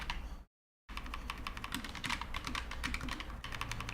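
Rapid, continuous keystrokes on a computer keyboard during a Monkeytype typing test, with a brief silent gap near the start before the fast, close clatter resumes.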